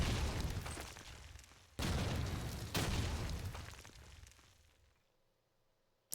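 A grenade explodes in Call of Duty 2, giving a loud booming blast followed by a second burst and a rumbling tail that fades out, ending in near silence.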